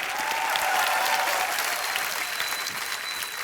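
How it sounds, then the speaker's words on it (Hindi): A studio audience on a comedy talk show applauds the players, with dense, steady clapping at moderate level that holds throughout and tapers slightly at the end. "बहुत जोरदार तालियां हमारे सारे प्लेयर्स के लिए"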